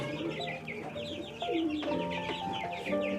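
A flock of Tiger breed chickens clucking and chattering continuously nearby on a farm, with overlapping calls and no voices.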